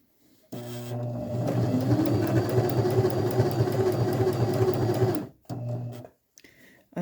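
A sewing machine stitches through a pillowcase in a steady, continuous mechanical whir that runs for about five seconds, stops briefly, then gives a short second burst before falling quiet.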